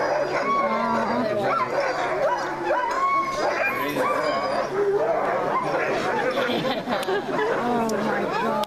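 Eager sled dogs at a dog sled demonstration in Denali National Park, a chorus of overlapping barks, yips, whimpers and howls, close and loud and going on without pause, with people chattering underneath.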